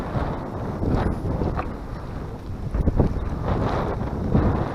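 Steady wind buffeting the microphone, a low rumbling roar with gusty surges throughout, no voices.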